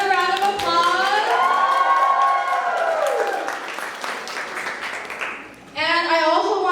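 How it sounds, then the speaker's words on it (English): A show audience claps and cheers for performers, a loud wash of applause with raised, sustained shouting voices on top. It dips briefly, then surges again. "Can we get another round of applause?"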